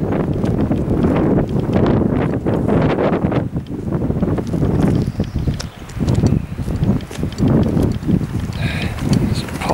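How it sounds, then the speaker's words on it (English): Gusty wind buffets outdoors on the grounds of a derelict hospital in North Wales, a loud, steady rumble with surging peaks throughout. "Wind's picked up again."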